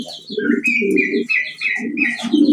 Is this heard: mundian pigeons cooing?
yes